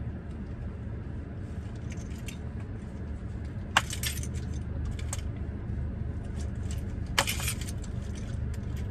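Keys jangle close by as a mailbox key is tried on a 2018 Buick Encore, with quiet scattered clinks and two brighter jingling bursts over a low steady background hum.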